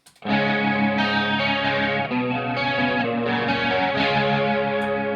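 An electric guitar plays sustained distorted chords with a swirling, warbling rotary-speaker effect, close and loud with no talking.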